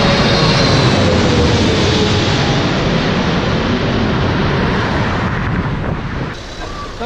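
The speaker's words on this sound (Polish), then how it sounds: "co 1 minutę ląduje samolot. Piękny leci, patrzcie się, tu nad tym skwerkiem." A low-flying airliner comes in to land over a small park in Istanbul, its jet engines a loud, broad roar that fills the clip and eases slightly at the end.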